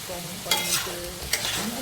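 Chopped bitter gourd being stirred and tossed by hand with chilli powder, salt and dried mango pieces in a bowl, giving soft close rustling and mixing scrapes with two brief louder clinks, no talk.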